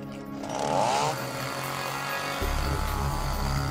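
A gas-powered chainsaw runs loud and close, its engine droning steadily and then dropping into a heavier, lower tone as the chain bites into wood, with no voices.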